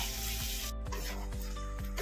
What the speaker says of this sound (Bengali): ফুলকপি আলুটা কষিয়ে নিচ্ছি ভালো করে।